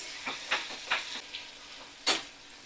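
Sliced onions fry in oil over a medium flame, giving a steady close sizzle broken by several sharper crackling bursts as they are stirred, with no voices.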